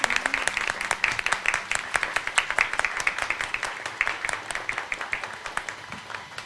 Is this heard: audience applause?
yes